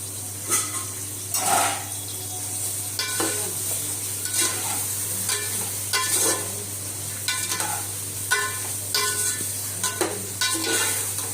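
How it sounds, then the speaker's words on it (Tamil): Onions fry in a pan for home-style biryani, a steady low sizzle broken by several sharp scraping stirs of a spoon against the pan, close and alone without speech. "அது நல்லா ரெட்டிஷ் ப்ரௌனாக ஆகுற வரைக்கும் வெங்காயம் வதக்கணும்"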